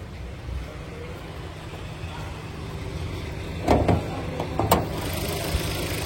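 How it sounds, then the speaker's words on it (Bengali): A 2016 Hyundai Sonata with a 1600cc engine idles with its bonnet open, a steady low hum close by, broken by a few brief louder knocks or clicks toward the end. "এই দেখেন রানিং গাড়ি, দেখেন শব্দ আছে"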